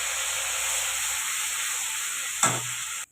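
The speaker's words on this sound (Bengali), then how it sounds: "এবার এখানে বেটে রাখা সর্ষে, পোস্ত, রাঁধুনি, আদা বেটে রাখা মশলাটা আমি কড়াইয়ে এখন দিয়ে দেবো।" Ground mustard, poppy seed, radhuni and ginger paste fry in hot oil in a kadai, a loud, steady sizzle and hiss throughout, with a short burst of flaring spatter near the end before it cuts off.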